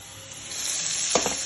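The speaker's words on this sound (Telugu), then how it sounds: "జీలకర్ర ఆవాలు వేసుకుందాము." Cumin and mustard seeds sizzle steadily in hot oil, a bright continuous crackle with a brief louder burst of popping near the end, no voices.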